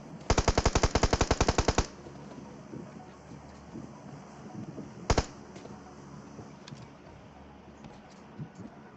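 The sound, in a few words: gunfire in PUBG Mobile video game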